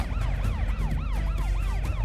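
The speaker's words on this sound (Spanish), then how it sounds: "Tal vez deberías apagar tus sirenas." Cartoon emergency vehicle sirens wailing in a fast, repeating up-and-down yelp, loud and continuous with a low engine rumble beneath, no speech.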